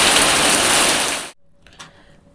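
Heavy rain with gusting wind roars loudly for just over a second, then cuts off abruptly, leaving only faint scattered sounds.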